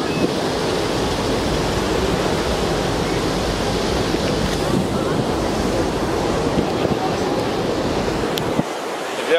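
Open ocean waves seen from a cruise ship rush and churn in a steady broadband roar, mixed with wind buffeting the microphone, loud and continuous until it cuts off near the end.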